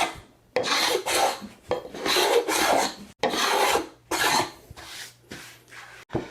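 A cabinet scraper scraping dried glue off wooden end grain, a series of about seven loud, close, rasping strokes separated by short pauses.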